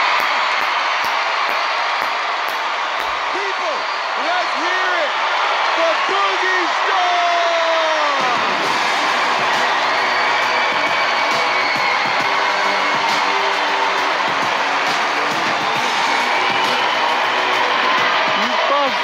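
A large studio audience at America's Got Talent 2020 roars with continuous cheering, whoops and applause after a Golden Buzzer act, a dense, loud wall of crowd noise lasting throughout.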